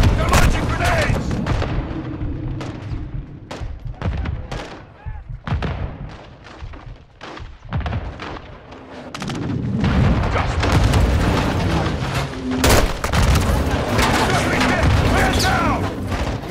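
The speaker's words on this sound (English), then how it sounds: "Incoming! Take cover! They're launching grenades!" Heavy grenade blasts and rapid gunfire in a Call of Duty MW2 firefight, loud booms and bursts repeating throughout, with shouting voices mixed into the battle noise.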